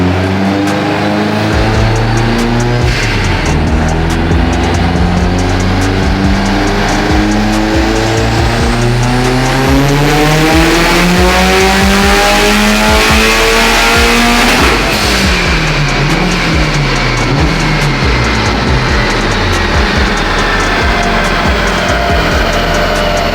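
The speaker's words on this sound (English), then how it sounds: "So now we're doing one more last pull." Turbocharged 2019 Subaru STI revving hard through a full pull on a Mustang chassis dyno, engine note climbing steadily in pitch, loud and close, with a brief drop and rise before climbing again near the end.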